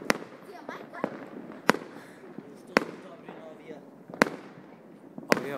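A run of New Year's Eve firecrackers pops at fairly regular intervals, about six sharp cracks in a row, some louder than others, with people talking in the background.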